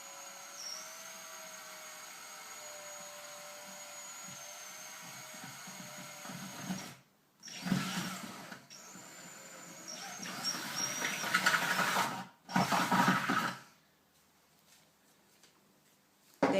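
A drill slowly bores a hole through a kitchen sink for a water filter tap, giving a whirring grind in bursts broken by short pauses, close and moderately quiet, with no talk.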